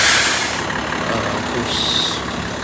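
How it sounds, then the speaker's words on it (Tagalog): A double-decker tour bus idles loudly on a downtown street at night, a close, steady engine rumble with a hissing, brake-like burst near the start. "Yung bus na double decker."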